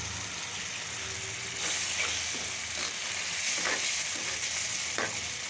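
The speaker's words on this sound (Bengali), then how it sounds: "এটা টমেটো এবং মশলা এবং আলু দিয়ে একবারে কষাবো একটু।" Tomato, spices and potato sizzle and fry in hot oil in a pan for a fish curry, with a steady close hiss and occasional scraping stirs; no talking.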